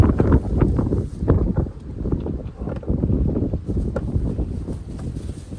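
Gusty wind buffets the microphone with low, rumbling blasts that rise and fall throughout, with no voices.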